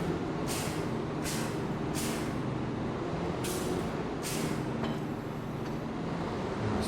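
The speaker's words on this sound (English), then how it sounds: "Oh, I like the air brakes." The air brakes on a new, more powerful farm tractor give five sharp hissing bursts over the engine's steady low idle roar, spaced unevenly.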